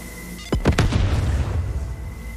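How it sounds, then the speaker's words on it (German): Grenade blast in the video game Deathloop, a single sudden deep boom followed by a short rumbling decay, moderately loud against a steady background hum. "Das war mal eine ordentliche Explosion."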